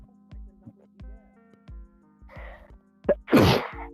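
A single loud, explosive sneeze near the end, preceded by a short inhale and scattered ticking and tapping sounds over a faint steady hum.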